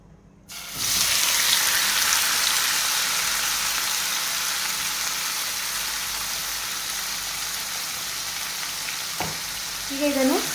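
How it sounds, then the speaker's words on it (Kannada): Marinated cuttlefish sizzles in hot ghee for a Mangalorean-style ghee roast: a loud, steady frying hiss starts after a moment and continues throughout, with a brief stir or clink near the end and no talking. "ಈಗ ಇದನ್ನು ಚೆನ್ನಾಗಿ ತುಪ್ಪದಲ್ಲಿ ಹುರ್ಕೊಳ್ಳೋಣ."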